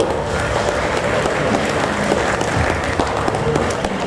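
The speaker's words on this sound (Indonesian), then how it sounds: "Mohon tepuk tangan yang meriah Bapak Ibu." At a hotel kick-off ceremony, an audience gives loud, lively applause after a countdown, a thick, continuous wash of clapping close to the microphone with crowd noise mixed in.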